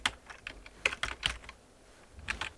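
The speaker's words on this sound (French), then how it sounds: "vous allez taper Fonctionnalités" Keys clatter on a computer keyboard in short irregular bursts of taps while a Windows search term is typed, close and clear, with brief pauses between runs of keystrokes and no talking.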